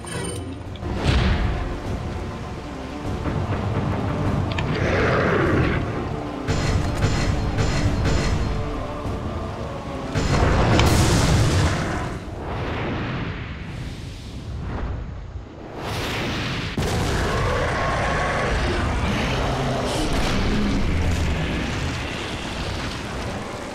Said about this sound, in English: Special fires a special rocket.